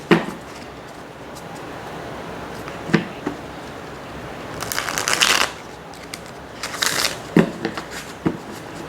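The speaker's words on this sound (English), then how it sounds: "So let's try to shuffle." Matte cardstock Dreams of Gaia oracle cards are shuffled by hand at close range, with scattered taps and soft slaps as cards knock together, then several quick riffling bursts.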